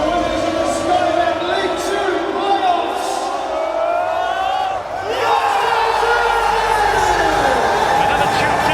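Notts County supporters at Wembley celebrating promotion to League One, a large crowd singing and cheering in a sustained roar of voices, loud and continuous.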